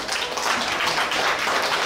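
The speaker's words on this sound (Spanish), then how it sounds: "Un fuerte aplauso, gracias." An audience at a Colombian National Police community event in Florencia, Caquetá, gives a short burst of applause, dense and fairly loud, with scattered claps running steadily throughout.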